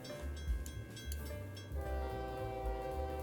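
A diesel train in the OpenTTD railway simulation game rumbles along with a low engine drone and a sustained horn tone, steady and moderately loud with no speech.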